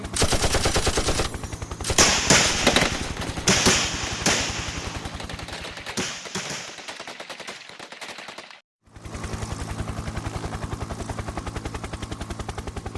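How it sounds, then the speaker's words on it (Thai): Sustained bursts of machine gun fire rattle rapidly, loud and dense, then stop briefly before a steady stream of rapid shots resumes. "มีเสียงปืนกลอากาศดังสะท้านขึ้นมาจากแนวป่าทางด้านทิศตะวันออก"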